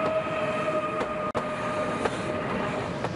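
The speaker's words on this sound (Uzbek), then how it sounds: "Birinchi yo'ldan poyezd xavfsiz jo'nab ketdi." Passenger train pulling away from a station platform, a steady rumbling rail roar with a faint high tonal whine and occasional clanks, continuous and fairly close throughout with no talking.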